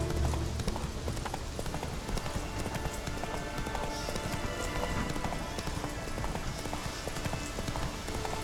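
A horse gallops in The Witcher 3 video game, with rapid rhythmic hoofbeats pounding continuously and loudly over a dense game soundscape.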